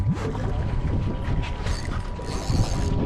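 Fishing reel cranked while bottom fishing for grouper off Florida, a close, rough mechanical creaking and clicking in uneven bursts, with no talk.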